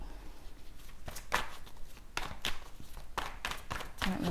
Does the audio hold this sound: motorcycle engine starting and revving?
no